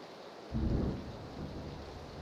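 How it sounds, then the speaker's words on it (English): A deep roll of thunder booms over a steady hiss of falling rain in the video game PlayerUnknown's Battlegrounds. "because of the rain and the lightning and the thunder"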